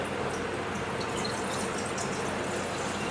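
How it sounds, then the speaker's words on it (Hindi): Two glasses of water poured into a cooking pot on a gas stove, a steady, soft splashing gush running continuously and fairly quietly throughout. "दो ग्लास पानी डालती हूँ"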